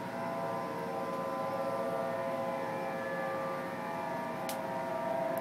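Honolulu's tsunami warning siren drones at night in a long, unbroken tone, heard from some distance over quiet city background during an evacuation.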